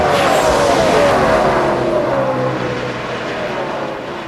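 Stock cars racing in a 2004 NASCAR Nextel Cup event, a loud continuous engine roar with a slowly falling pitch as cars pass close by, with no speech over it.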